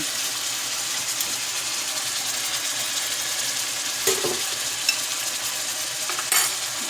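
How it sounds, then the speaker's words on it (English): Ackee frying in oil in a pan for Jamaican ackee and red herring, a steady broadband sizzle with a few faint clicks and utensil taps near the end, no talk. "Make it fry a little bit more."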